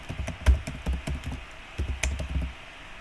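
Fingers tap a computer keyboard while a password goes in, a quick irregular run of crisp close keystrokes in two bursts with a short pause between, no voices.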